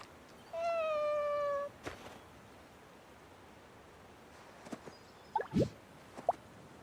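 A cat in the game Heartopia gives one clear, drawn-out meow near the start, followed by a few short soft chirps and clicks later against a quiet background.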